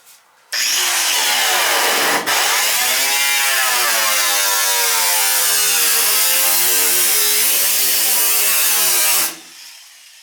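A power tool, a nibbler or grinder, cuts through sheet metal from an old gas furnace being removed. It screeches loudly and continuously for about nine seconds, its pitch wavering as the cut goes on, with a short break near the start.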